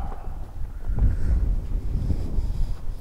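Gusting wind of about 17 metres per second buffets the microphone on a golf course, a loud low rumbling roar that swells and stays heavy throughout, with no speech.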